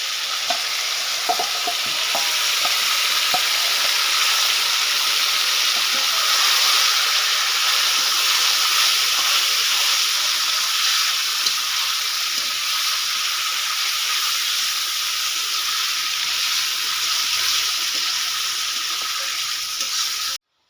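Mutton and chilli frying together in a pan, a steady, loud sizzle with soft stirring scrapes and clinks running without pause throughout, no voices.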